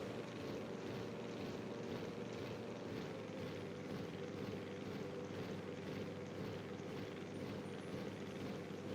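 An aircraft in the Wii Sports Resort island flyover produces a continuous, even propeller-engine drone throughout, loud and steady with no pauses or talking.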